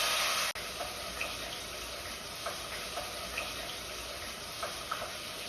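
Jalapeños dunked into hot oil fry with a steady, even sizzling hiss, steady and fairly soft, broken only by a sharp click at the start and a few faint pops.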